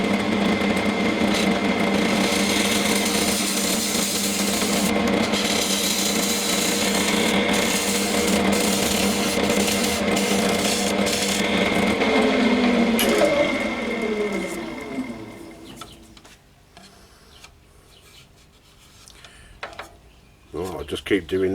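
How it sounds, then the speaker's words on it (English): Gentle scraping of wood on a lathe makes a steady, loud whirring, rattling drone with a faint rising tone. It quietens sharply after about fifteen seconds, leaving low, sparse mechanical noise and a few knocks. "Very gentle scraping."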